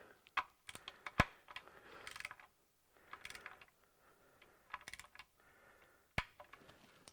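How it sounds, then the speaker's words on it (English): An inch-pound torque wrench on Corvette oil pan bolts gives a few sharp, isolated clicks and ratcheting ticks, quiet and close, with soft handling noise between them. "I'm not going to make you watch me torque all 15 of these bolts"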